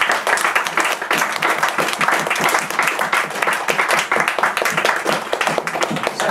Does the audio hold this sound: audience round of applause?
yes